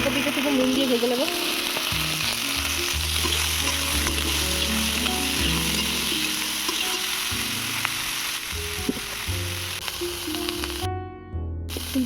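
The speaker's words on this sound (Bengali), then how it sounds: "ফুলকপিটা থেকে নুন দিয়ে ভেজে নেব।" Cauliflower florets fry with salt in oil, a steady close sizzle with faint stirring scrapes running throughout and a brief drop in the sizzle near the end.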